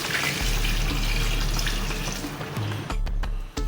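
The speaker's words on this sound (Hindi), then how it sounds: "पानी और डालेंगे इसमें" Water pours in a steady, close gush from a jug into a cooking pot for a few seconds, then trickles and splashes to a stop.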